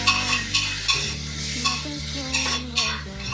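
Green chillies stirred and sautéed in a hot pan for a Kasaragod-style chicken curry, with a steady sizzle broken by regular scrapes and clinks of a spoon against the metal, close and fairly loud.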